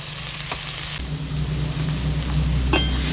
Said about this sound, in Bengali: এবার এতে আমি দিয়ে দিচ্ছি পেঁয়াজ কুচি, দিয়ে দিচ্ছি রসুন কুচি